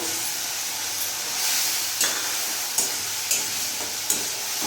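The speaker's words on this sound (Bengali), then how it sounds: "এরই মধ্যে এখন কুচনো একটা টমেটো নিয়েছি, পুরোটা দিয়ে দেবো।" Chopped tomato frying in a hot pan for egg curry, a steady broadband sizzle with a few sharp crackles and stirring scrapes spaced through, close and moderately loud with no voices.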